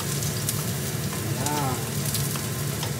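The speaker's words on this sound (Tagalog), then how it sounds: "Ito po at mainit na ating mantika. Lalagay po natin ang ating bawang." Minced garlic dropped into hot cooking oil for sautéing vegetable lumpia filling, giving a steady, close, dense sizzle that holds evenly throughout with no talking.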